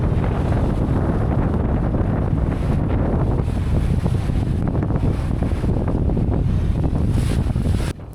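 Strong wind roars across the microphone on a sailing boat at sea off Fiji, a dense continuous buffeting rumble that holds steady with the faint wash of short, choppy waves beneath.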